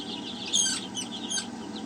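Many small chicks chirp in high, busy peeps over a low steady mechanical hum from an air blower.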